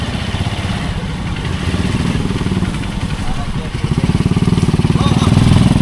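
A motorcycle engine runs close by on a farm, a loud rough chugging idle that quickens and grows harsher near the end, with someone talking over it.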